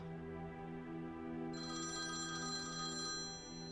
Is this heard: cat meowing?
no